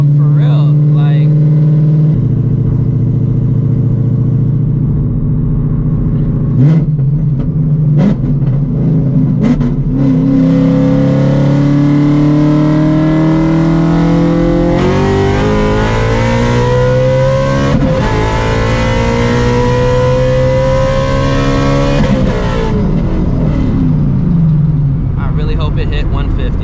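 A 900-horsepower Shelby GT350 accelerates hard in third gear from about 100 to 150 mph, its engine note climbing in a long loud sustained pull heard from inside the car, with talking near the start.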